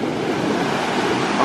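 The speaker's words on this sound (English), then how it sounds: "We got another wave coming in." Ocean surf rolls in on a sea turtle release beach, a steady broadband wash of breaking wave and foam with some wind noise, filling the whole moment without speech.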